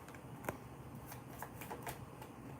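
Oracle cards from a love deck being shuffled, a faint papery riffling with a few soft snaps and flicks over a steady low background hum, no talking.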